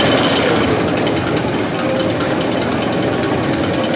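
At Busch Gardens Tampa, a roller coaster lift motor slows as the train goes over the crest. Its steady, loud, droning mechanical hum holds evenly throughout, with no voices.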